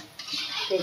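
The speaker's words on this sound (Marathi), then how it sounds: "एक एक असं कारलीचं भजी आपण पलटी करून घेऊ." A spatula scraping and clinking in a pan of hot oil as bitter gourd fritters are turned one by one, a brief close metallic scrape over a soft frying hiss.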